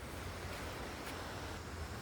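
Waves wash steadily onto the sea beach at Ban Kut, a continuous broadband rush of surf mixed with wind noise, with no clear breaks between swells.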